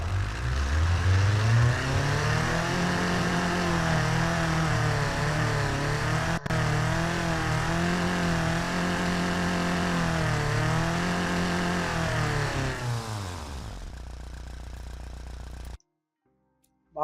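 A 1949 roadster engine in the Automation car game revs loudly and steadily for about thirteen seconds, its pitch wavering up and down, then drops away and cuts to silence.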